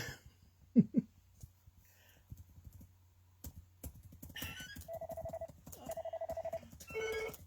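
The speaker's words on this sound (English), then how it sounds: "And now the phone's ringing." A landline telephone rings indoors in a crafting room, a repeated electronic ring in short bursts that follows light tapping and handling noises, with no talk over it.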